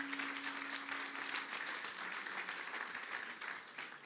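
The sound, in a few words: applause welcoming a newcomer in church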